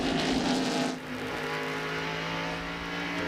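NASCAR stock cars at Watkins Glen in 1997 race past, a loud high-pitched engine whine that surges and then drops away as the cars go by, followed by a steady engine drone.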